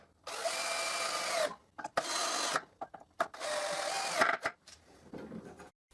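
Screws being driven into a cylinder with a power driver, several whirring bursts of a second or so each, separated by short pauses and clicks, close and fairly loud.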